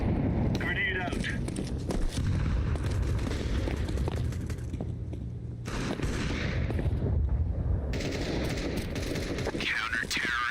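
Grenade blasts and gunfire in a Counter-Strike-style video game come as loud, dense booms and rapid shots throughout, with a voice talking over them.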